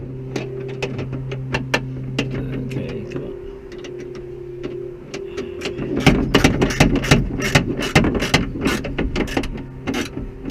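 Hand wrench tightening a bolt on a BMW front window regulator inside the door, a run of sharp mechanical clicks and ratcheting ticks, close and fairly loud, quickening toward the end over a low steady hum.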